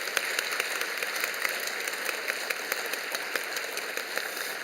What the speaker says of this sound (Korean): 돌아서서 교우들에게 인사하실 때 큰 박수로 격려해 주시기 바랍니다.